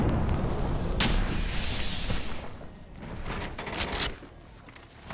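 Frag grenade blasts in a first-person shooter video game, with a loud rumbling burst of explosive noise opening the clip, gunfire-like crackles and a second sharper blast around four seconds, fading toward the end.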